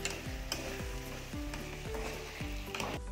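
A spoon stirs soya chilli in a hot pan after cornflour slurry goes in. Quiet scraping strokes repeat in a regular rhythm over a soft, constant sizzle, with no talking.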